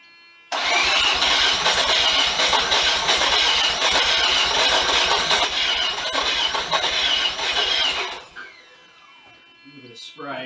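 A Mazda FC RX7 rotary engine cranks and fires, then runs and revs loudly and steadily for several seconds before cutting off abruptly, leaving brief faint noises.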